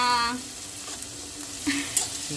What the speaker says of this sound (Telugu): అలానే దీంట్లోకి టేస్ట్ సరిపడంత సాల్ట్ వేసుకొని బాగా మిక్స్ చేసుకున్నాం